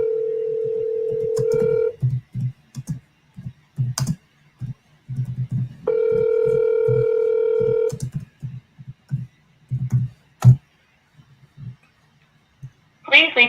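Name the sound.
telephone dialing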